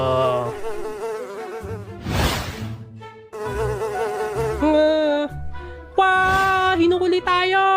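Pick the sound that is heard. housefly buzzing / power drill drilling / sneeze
housefly buzzing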